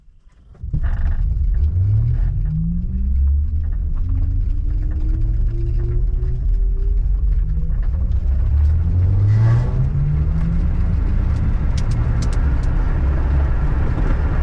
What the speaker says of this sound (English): the four-wheeler is way more of a rattle trap, but it also makes much cooler spaceship-y sounds